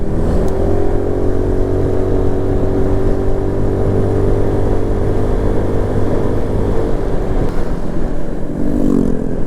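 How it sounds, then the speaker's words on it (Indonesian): Loud, rumbling motorcycle engine with an open exhaust, held steady close by in a residential area, a deep throaty exhaust roar with slight pitch shifts, continuous and unbroken. "Ada knalpot brong juga di sini."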